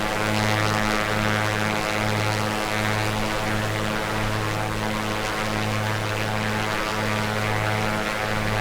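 An A2A Piper Comanche 250 in Microsoft Flight Simulator drones with a steady, loud propeller engine hum and a slightly pulsing throb, continuous throughout with no voices.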